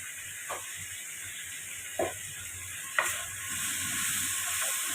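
Spice masala with Kashmiri chilli and a little turmeric fries in oil, giving a steady sizzle and hiss, broken by a few short stirring scrapes.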